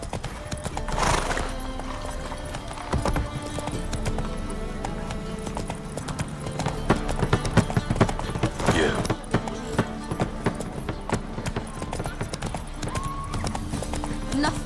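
Geralt's horse Roach gallops through Novigrad in The Witcher 3, a loud continuous clip-clop of hooves with whinnies and neighs breaking in, set among game music and ambient noise.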